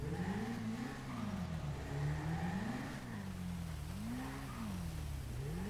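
A motorbike engine in GTA V revs continuously with a wavering, rising and falling pitch, fairly loud and steady throughout, with no talk.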